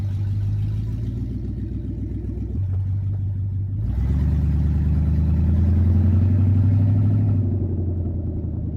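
A drift car with an automatic transmission (8HP70 swap) rumbles loudly as it accelerates, its engine note dropping at an upshift from first to second and then building again, close and without talk.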